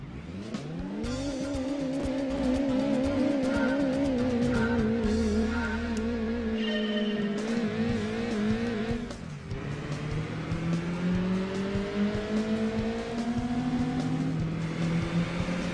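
Race car engine fitted with a racing muffler, driven at Grindelwald in Gran Turismo 2, revving hard and loud through repeated gear changes with brief tire squeal, a sustained close, buzzing roar with no talk.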